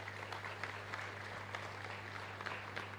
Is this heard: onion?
no